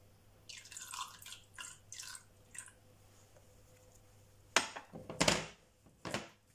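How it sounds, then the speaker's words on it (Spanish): Vinegar splashes onto an endive salad with pear and grapes in a few soft dripping pours, close and quiet, followed by a couple of louder spatters near the end. "Un chorrito de vinagre."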